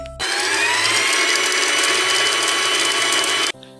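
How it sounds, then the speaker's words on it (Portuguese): A sewing machine stitches a hem on a child's overalls made from a trouser leg, starting abruptly into a loud, fast, continuous mechanical whir that runs for about three seconds and then stops short. "Eu vou costurar a bainha"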